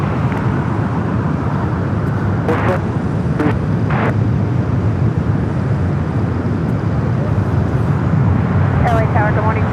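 A Boeing 787-9 Dreamliner arriving from Brisbane rumbles at LAX as a loud, continuous low engine roar, with a voice talking over it and faint radio chatter at times.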